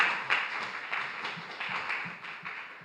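A church congregation at a Sunday youth service applauds, giving quiet, moderately distant clapping that swells and fades in a loose, continuous patter.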